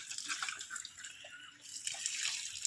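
Rainwater pouring nonstop into a brimming drain, a soft, continuous rush and trickle of running water heard close and fairly quiet.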